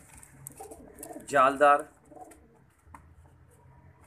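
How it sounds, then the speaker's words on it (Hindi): Pigeons kept by fanciers give a brief, soft double coo partway through while someone talks over a quiet background. "किन किन नफीस उस्तादों का कबूतर आ जाता है हमारे पास"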